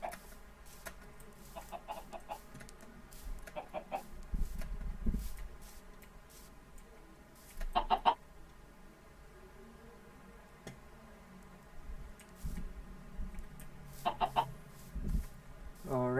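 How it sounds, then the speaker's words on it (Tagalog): Chickens in the Minecraft video game, heard as scattered short clucks and squawks over a steady low in-game ambience, with fuller bursts near 8 and 14 seconds. "Mga chickens."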